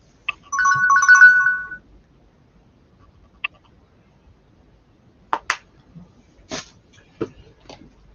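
A phone ringtone trills loudly for about a second and a half in a quiet room, followed by scattered short knocks and clicks from handling small objects.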